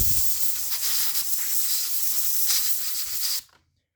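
A steady hiss of compressed air blows into a Nintendo Switch controller for about three and a half seconds, then cuts off abruptly into silence.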